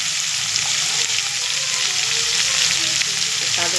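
Potatoes with ginger paste and turmeric frying in a pan, a steady close sizzle that holds at an even level throughout.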